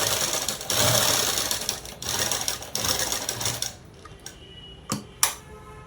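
A sewing machine stitches cut work pants in a fast, steady mechanical whir for several seconds, then stops, leaving a few separate clicks and clacks at close range.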